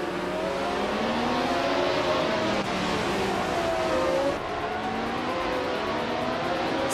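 Lotus 72C race car engine in a racing video game, a continuous high engine drone with rising and falling pitch as it accelerates and shifts, mixed with other cars.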